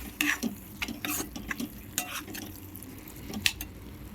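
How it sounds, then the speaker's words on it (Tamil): A spoon stirs and sautés palak spinach greens in a pan, with scattered close scrapes and clinks against the metal over a faint background sizzle, with no talking. "இப்போ நல்லா வதக்கி வச்சுப்போம்"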